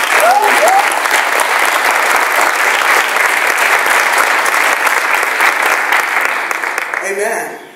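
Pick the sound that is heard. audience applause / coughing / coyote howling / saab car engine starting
audience applause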